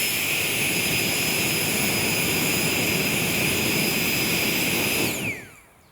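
A Max Pump 2 Pro portable air pump running, a loud steady high-pitched whine over dense airy rushing, close and constant before winding down abruptly near the end.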